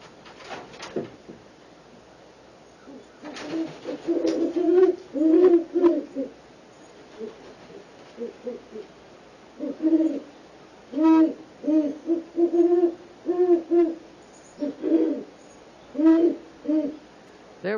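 Great horned owls hooting in repeated low, resonant series, several calls spaced through the stretch with short pauses, fairly close and clear with no talk.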